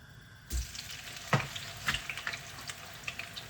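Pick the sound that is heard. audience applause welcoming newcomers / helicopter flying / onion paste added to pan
onion paste added to pan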